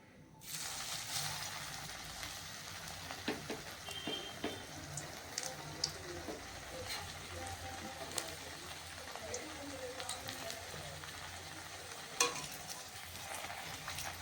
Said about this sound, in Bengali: তেল তো গরম হয়েই এসেছে তো একটা কাটলেট আমি ছেড়ে দেখি